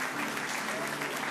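A crowd applauds at a sports school ceremony for Olympic athletes, a brief, steady burst of clapping heard at moderate distance.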